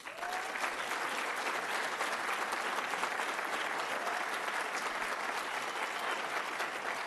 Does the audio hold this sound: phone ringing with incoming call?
no